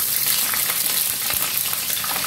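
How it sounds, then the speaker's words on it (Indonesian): Water spinach stir-fries with garlic and shallots in a hot pan, giving a steady, close crackling sizzle with light stirring scrapes throughout and no talking. "Kita tumis dulu."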